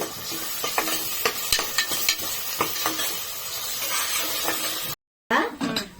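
Ginger and garlic fry in a pan for a ridge gourd and chana dal curry, a sizzling hiss broken by frequent scraping stir strokes, close up; the sound cuts out briefly near the end, then resumes.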